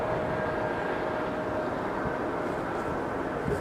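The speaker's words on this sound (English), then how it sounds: "something's landing on runway 26, the short runway over there." An airplane landing on the short runway 26 at Philadelphia airport, heard as a steady, loud broadband jet roar with a faint whine, continuous throughout with no talk.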